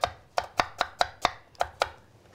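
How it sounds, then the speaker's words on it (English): A knife chops through an apple on a cutting board during coarse trimming, giving eight crisp, evenly spaced strokes close up with no talking. "This, the trimming of the apple,"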